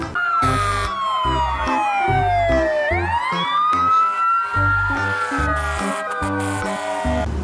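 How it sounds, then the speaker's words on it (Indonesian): A loud electronic siren wails up and down in sweeping tones over a repeating synthetic beat, close and continuous, like a toy fire truck. "Ini mobil damkar."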